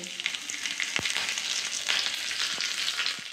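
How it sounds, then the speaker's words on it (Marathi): Cumin seeds and a green chilli crackle and sizzle in hot ghee for a tadka, a steady close frying hiss with a few sharp pops, no voices. "इथे मी तूप गरम करून घेतलेलं आहे। यात मी थोडेसे जिरे घालते आणि ही 1 मिरची घालते।"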